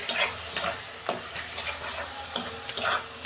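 A spoon stirs mutton with turmeric, salt and Kashmiri chilli powder in a hot pan, scraping in regular strokes over a steady sizzle.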